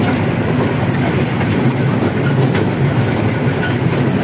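A toy train ride at Kaldighi in Gangarampur, South Dinajpur, West Bengal, with a steady loud clickety-clack of wheels on rails as the train pulls into the station platform.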